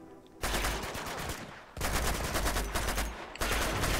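Sustained loud automatic gunfire from the Uncharted 2 video game, near and continuous in three long bursts with brief pauses between them.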